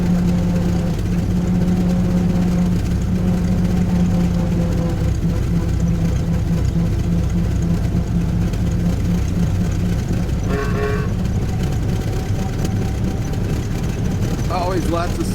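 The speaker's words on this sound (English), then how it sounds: "I think this one will be low gear on the way up." A car's engine labours in low gear up a very steep hill in Paris, a loud, steady low drone running throughout with talk over it and a brief higher tone near the end.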